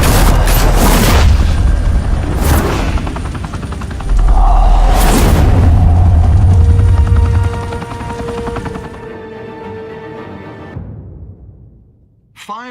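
Gunfire and heavy booms in Batman: The Telltale Series, loud bursts and blasts with explosive impacts over a busy game soundtrack, fading into a quieter stretch near the end.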